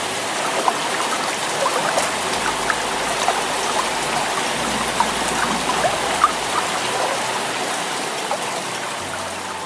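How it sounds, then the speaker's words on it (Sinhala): Steady, dense rain pours at night in a Sinhala flood-story cartoon, a continuous hiss with scattered droplet ticks and no voices. "මහා වැස්සක් එදා රෑයි ධම්ම ඇදහැලුණා"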